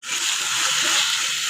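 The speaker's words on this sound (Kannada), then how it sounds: "ಈ ಥರ ನೀರು ಫುಲ್ಲು ಬಸಿದ ಮೇಲೆ ಒಂದು ಸಲ ನೀರನ್ನ ಚೆಲ್ಕೋತೀನಿ" Water is splashed over washed and drained drumstick leaves (nugge soppu) in a kitchen: one brief, close, hissing splash that holds steady for a moment.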